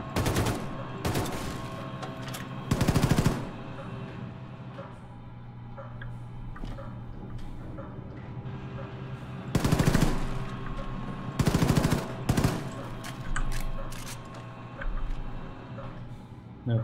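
Bursts of rapid automatic gunfire from Wolfenstein 2: The New Colossus, shooting practice aboard a submarine, with several loud, close volleys separated by quieter mechanical clicks and ambient hum.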